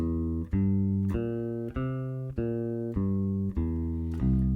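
Plucked bass guitar notes ring out one after another in a steady root-position dominant seventh arpeggio, six evenly spaced attacks with sustained low tones, no voices.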